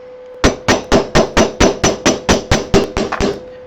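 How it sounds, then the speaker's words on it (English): Small ball peen hammer striking copper sheet on a little anvil, about a dozen quick, evenly spaced metallic blows ringing close and loud, with no talk. "I have a little ball peen hammer because I like to swing fast instead of hit hard."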